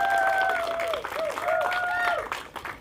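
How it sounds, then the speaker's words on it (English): Audience applause at a ribbon-cutting ceremony for a storybook garden's 25th anniversary, a short burst of clapping mixed with crowd noise and a tonal whistle-like sound over it. "Let's give them a round of applause."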